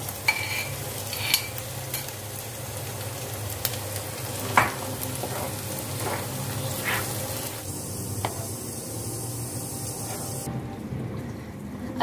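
Onion masala fries in a pan for a Rajasthani besan gatte gravy, giving a low continuous sizzle with occasional spoon clinks and stirring scrapes, fairly close and moderately quiet, with no one speaking.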